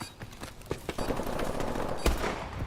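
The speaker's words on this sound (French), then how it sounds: "Il est en train de tirer sur le drone d'assaut, il va mourir." Rapid gunfire in a video game, aimed at an assault drone during a competitive esports match: a few sharp shots, then a dense, continuous volley of automatic fire with one louder crack near the end.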